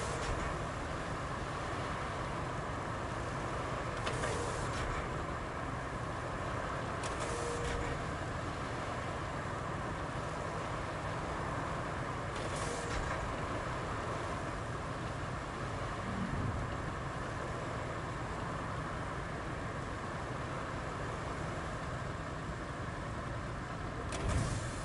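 A car drives steadily along a road, giving a constant broadband rumble and road roar throughout, with a few brief higher whooshes and small knocks over the continuous noise; nobody speaks.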